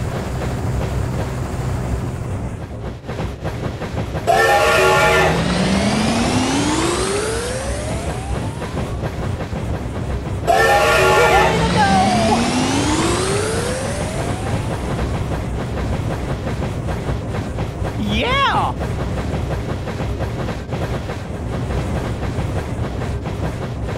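A rocket train in the Dinosaur Train video game rushes past twice, each pass a loud whooshing roar with rising pitch sweeps over steady rumbling rail noise, followed later by a brief high whistle-like tone.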